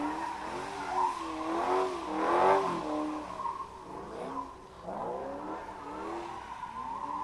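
A Cadillac CTS-V at a drag strip test-and-tune session revs and accelerates, heard at moderate distance with rising engine pitch in several surges, tire squeal and faint background noise.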